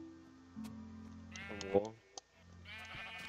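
A sheep bleats twice in the Minecraft video game, short wavering cries heard close, with a voice speaking before and between them.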